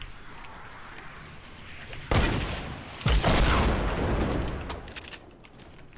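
Loud rocket launcher blasts from an RPG in the Fortnite battle royale game, two heavy booming bursts that roll into a long rumbling wash over a noisy background.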